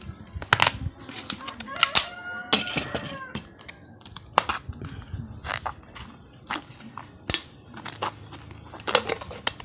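A plastic soda container is cut along a marked line, giving close, irregular crunching and crackling snips and cracks of thin plastic, with sharp clicks scattered across the clip and no talk.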